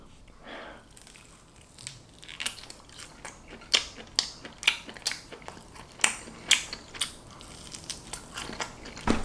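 Soy sauce grilled pork ribs being eaten up close: crisp, rhythmic crunching bites and chewing that grow louder and more frequent, with no talk.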